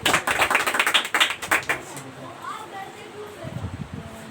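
A classroom full of students claps together in a quick burst of applause for about two seconds, then fades into quieter rustling with faint voices nearby.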